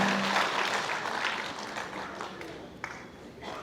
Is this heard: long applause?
yes